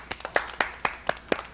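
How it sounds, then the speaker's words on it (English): Six sharp hand claps ring out in a steady, evenly spaced rhythm, close and clear with no talking, from a children's television classroom around 1981. "clap your hands"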